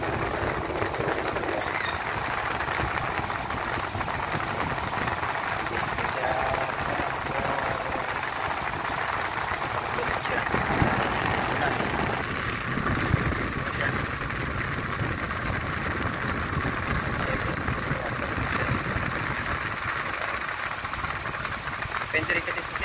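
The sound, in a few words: Toyota Innova engine idling with aircon compressor engaged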